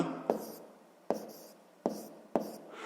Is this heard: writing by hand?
yes